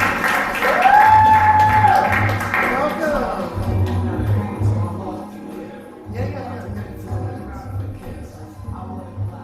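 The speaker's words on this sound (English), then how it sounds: "Big round of applause, come on." Applause and a few cheers from the audience at a poetry open mic, loud at first then thinning out, with a whoop and some shouting over the clapping.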